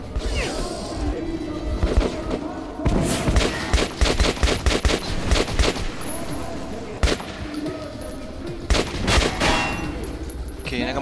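Bursts of machine gun fire in Metro 2033 rattle loud and close in rapid volleys, stopping and starting with short gaps amid clanking mechanical noises.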